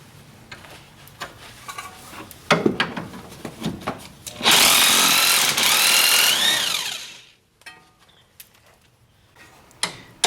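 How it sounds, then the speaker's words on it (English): A 17mm socket impact gun hammers loudly for about three seconds as it spins out a fork pass-through bolt on a Civic's suspension, with handling clicks and clanks before and after. "using our 17mm socket impact gun to remove it"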